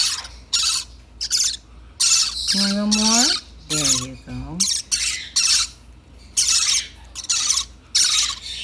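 Baby parrotlets give rapid, harsh bursts of chirps and squawks during hand feeding, close and loud in repeated clusters, while a person speaks softly in between.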